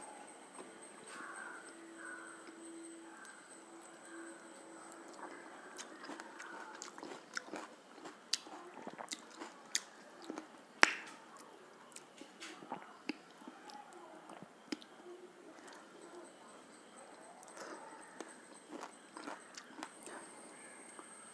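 Soft, close eating sounds of curd rice with mango pickle: quiet, irregular clicks, smacks and chews scattered over a low, hushed background, with faint voices now and then.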